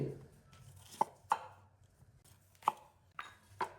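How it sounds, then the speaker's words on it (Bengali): A knife cuts through a lemon on a board in four or five sharp, close taps, spaced irregularly with quiet between them. "লেবুটা কেটে সাইডে রাখলাম"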